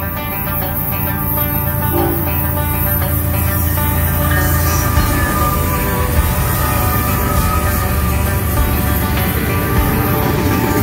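A southbound manifest freight train passes nearby with a loud, continuous rumble of wheels and cars and faint metallic squeal and hiss, sustained for the whole stretch without speech.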